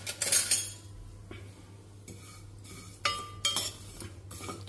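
Sesame seeds dry-roasting in a pan on low heat, with scraping and clinking of a metal spatula stirring them in bursts between quieter stretches.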